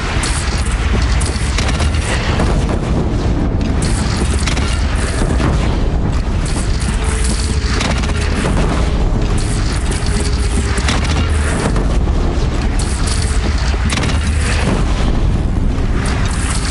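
Cannon fire and explosions in the Horizon Zero Dawn video game, a constant, loud battlefield roar of booms and blasts with no voices breaking through.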